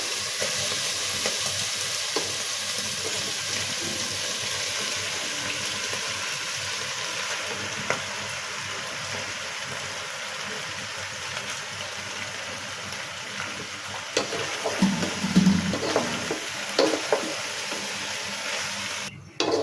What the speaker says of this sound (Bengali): এবার আমি সেদ্ধ করা পাস্তাগুলো দিয়ে দিব।